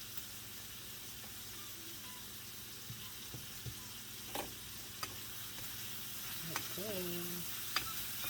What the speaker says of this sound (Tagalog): Lagyan natin ating tomatoes mga Jai